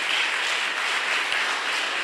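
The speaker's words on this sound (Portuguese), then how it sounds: "Vamos aplaudir a Jesus." A church congregation at an evangelical service applauds together, a dense, steady wash of many hands clapping at once, loud and unbroken with no voices on top.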